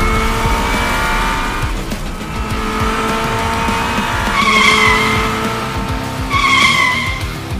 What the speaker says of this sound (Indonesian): di sini ada mobil McQueen super besar